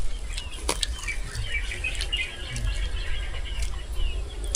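Faint bird chirps and tweets scattered over a low outdoor rumble, with a few brief sharp clicks; calls are distant and sparse.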